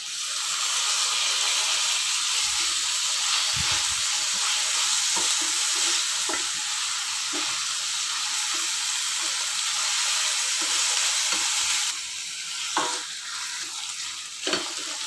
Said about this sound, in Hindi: दो मिनट लिए टमाटर भुनिया है।